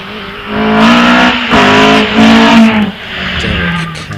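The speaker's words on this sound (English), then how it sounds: "Ian Englehart with his Westfield SE 2 litre Vauxhall powered machine, off the line" A Westfield SE hillclimb car with a 2-litre Vauxhall engine launches off the line at Wiscombe Park, its engine roaring loudly and rising through repeated gear changes, with a crowd and track ambience around it.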